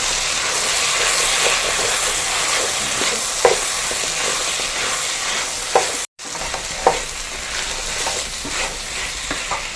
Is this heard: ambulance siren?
no